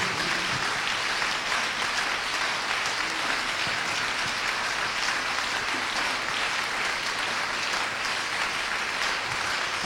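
A church congregation acclaims and welcomes the pastor with sustained, dense applause, an even roar of many hands clapping at steady loudness throughout, with no speech over it.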